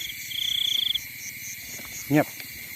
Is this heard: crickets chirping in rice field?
yes